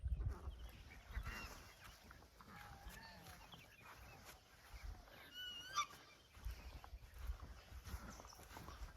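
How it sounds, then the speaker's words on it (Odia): Ducks at a village pond in rural Odisha give scattered honking quacks throughout. The calls are fairly faint and distant over a soft outdoor background. "ଏ ବନ୍ଧରେ ବତକ ବି ରହିଛି"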